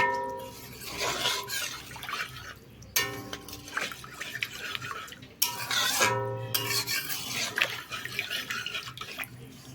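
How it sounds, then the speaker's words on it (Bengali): Spices mixed with water being stirred in a pan for a hilsa fish recipe, a spoon scraping and swishing through the wet mixture in bursts, with clinks against the metal and short pauses between strokes. "এবার জলের সঙ্গে এগুলোকে একটু ভালোভাবে মিশিয়ে দিচ্ছি"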